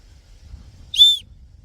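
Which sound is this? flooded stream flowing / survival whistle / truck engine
survival whistle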